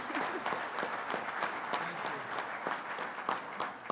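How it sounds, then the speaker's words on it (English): A conference audience of firefighters bursts into applause, steady, fairly close clapping with crisp individual claps standing out, no talking over it. "that's an applause line"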